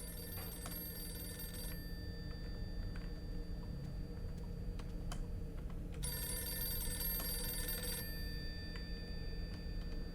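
An old telephone bell rings in bursts inside a Yakut horror video game, a steady repeating ring over a low droning ambience, pausing midway and then resuming, with no one speaking.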